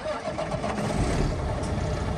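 A 2005 Kenworth T300 truck's engine cranks and fires, the starter grind swelling into a loud, rumbling diesel idle up close.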